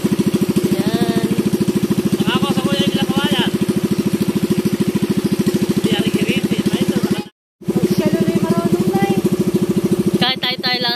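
A new boat's engine runs during break-in with a steady, close, pulsing putter, while people talk and call out over it, with one brief cut-out.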